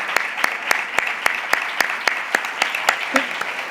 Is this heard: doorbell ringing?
no